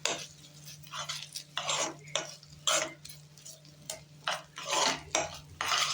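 Spoon stirring chocolate cake batter in a bowl, soft repeated scraping strokes in an irregular rhythm, close and moderately quiet with a steady low hum underneath.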